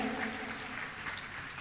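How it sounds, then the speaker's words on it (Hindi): Applause at a Jain Panchkalyanak Pratishtha religious festival, a dense, even wash of many hands clapping heard from within a large gathering, with no talk over it. "एक बार जोरदार तालियां बजाइए"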